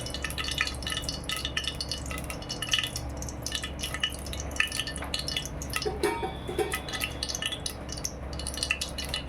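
Mustard seeds and urad dal splutter in hot oil with ghee, a continuous close crackle of small pops and sizzling spits, moderately quiet and busy throughout.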